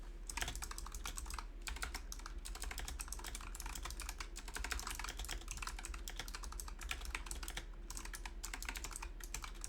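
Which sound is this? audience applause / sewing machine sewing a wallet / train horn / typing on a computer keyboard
typing on a computer keyboard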